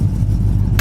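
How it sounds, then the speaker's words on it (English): A 1964 Pontiac GTO door shuts with one sharp, close thump near the end, following a steady low engine idle or rumble. "Door shuts great, lines up nicely."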